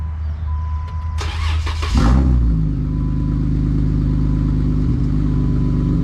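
A Jeep Wrangler JK with a cheap aftermarket exhaust cranks briefly, fires up loudly and settles into a deep, steady rumbling idle, heard up close.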